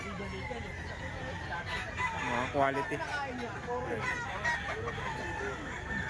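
A rooster crows twice over someone talking nearby, with other chickens clucking in the background.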